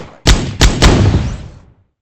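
Cannons and guns firing in a video game battle, three sharp loud blasts in quick succession, each booming and trailing into a rumbling decay that fades out.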